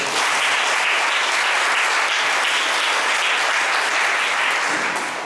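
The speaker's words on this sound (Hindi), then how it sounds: "क्यों ना हम परमेश्वर के लिए जोरदार ताली बजाते हैं।" A church congregation at an evening Sunday service claps loudly and steadily, a dense sustained wash of applause filling the room without letting up.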